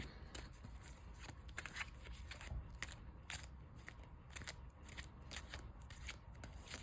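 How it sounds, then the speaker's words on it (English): Trading card game decks are shuffled by hand in a quiet room at a match table, giving a steady run of soft, crisp riffling and card snaps close by, with no talk. "Go ahead, shuffle our decks real quick."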